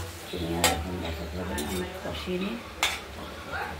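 Spices for a potato and paneer curry scraped and stirred in a pan: repeated metal clinks and scrapes over a low sizzle, with someone talking quietly throughout.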